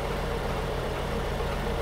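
An early 60-year-old Ford Falcon engine idles as it warms up after sitting unstarted for a couple of months, a loud, steady, close low rumble with an even pulsing beat and no one talking.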